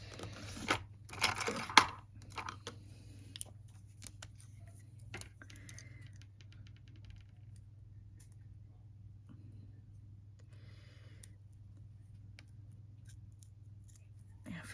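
Tape is snipped with scissors and torn off the lid of a pot of nail transfer foil, producing a burst of close, sharp cutting and ripping clicks early on, then scattered faint ticks and rustles in a quiet room.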